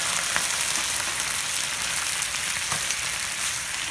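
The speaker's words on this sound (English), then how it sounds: "we're going to dump them in there just like that" Canned black beans with their liquid sizzle in a hot pan on a Ñuke grill, producing a constant close frying hiss with faint crackles and no talking.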